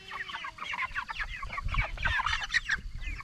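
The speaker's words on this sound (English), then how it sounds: "I can't remember the name of this chicken, or the breed of this chicken." Chickens clucking steadily at close range on a farm, among them a hen that lays blue eggs, a busy overlapping stream of short calls with no talk over them.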